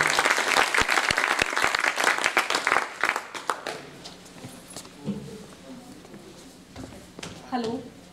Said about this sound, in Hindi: तो एक बार मनीषी जी के लिए जोरदार तालियां, वो अपनी कविता लेकर आप सबके सामने।